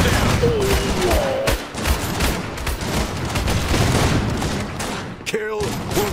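Dense battlefield gunfire from the Iron Harvest strategy game fills the scene, with continuous overlapping shots and bursts, while game voices call out briefly over the shooting.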